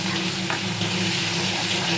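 Mushroom curry fries loudly in a pan after ginger paste is added, giving a close, constant hiss and sizzle with stirring and no talk.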